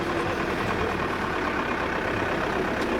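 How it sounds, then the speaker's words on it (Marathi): A vehicle engine idles in a low, steady rumble at a pilgrimage procession meal stop. It stays continuous and fairly loud for the whole span, with no clear voices over it. "गाडी व्यवस्था द्या माऊली गाडी आली माऊली"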